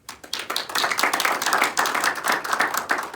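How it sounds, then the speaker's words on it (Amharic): A church congregation claps together in a quick, dense burst of applause that swells after a short lead-in and continues evenly for a few seconds. "እስቲ የተፈወሳችሁ አጨብጭቡለት።"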